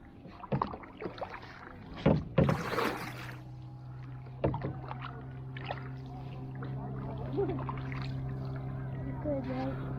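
A kayak paddles across Lake McDonald in Glacier National Park, with a few splashy paddle strokes and water sloshing near the boat, while faint voices talk in the background.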